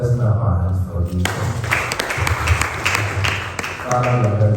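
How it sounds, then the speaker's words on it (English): A church congregation claps hands together at a marriage and relationship bootcamp session, a burst of dense, rapid clapping filling the middle stretch, with a voice talking before and after it. "Let's clap our hands for Jesus."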